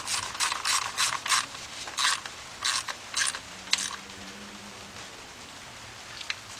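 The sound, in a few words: ratchet tightening timing cover bolts on a Chrysler engine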